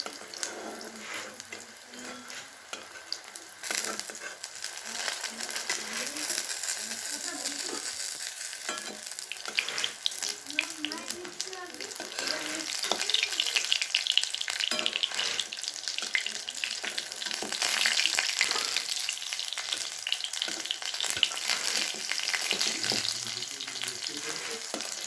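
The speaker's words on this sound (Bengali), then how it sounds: "আমার বড়াগুলো প্রায় ভাজা হয়ে গেল মনে হচ্ছে" Drumstick flower fritters fry in hot oil with a continuous crackling sizzle, close and moderately loud, interrupted by scattered clinks and spatters as the pieces are turned and lifted out over about twenty-five seconds.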